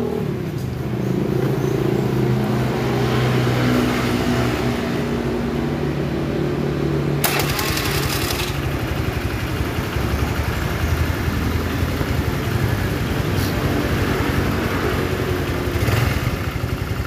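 A cold Honda Vario carburetor scooter engine starts and settles into a steady, close, rough idle that runs evenly for over fifteen seconds, with no speech.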